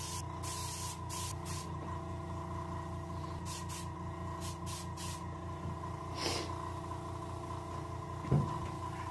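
Steady airbrush or spray-gun hiss runs continuously while paint is coated over a chum salmon taxidermy mount, with a few faint taps and a brief louder bump near the end.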